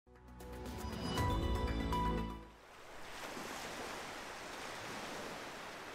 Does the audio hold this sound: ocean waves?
yes